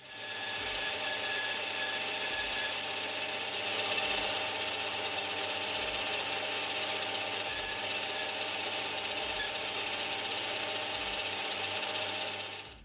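A lathe cuts a chamfer on the inside and outside edges of a metal part before parting off. It makes a steady, close grinding scrape with a faint high ringing tone and a regular low thump, and no one speaks.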